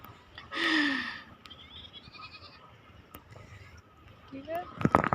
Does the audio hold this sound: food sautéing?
no